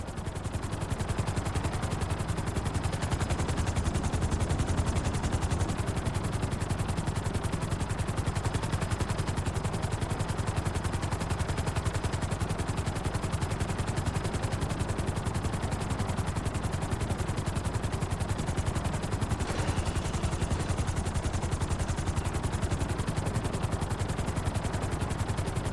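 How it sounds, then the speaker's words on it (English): A helicopter sets down on a helipad in Grand Theft Auto 5. The rotor and engine give a dense, continuous roar at a constant loud level for the whole stretch, with no voices. "Bring the helicopter down gently onto the helipad."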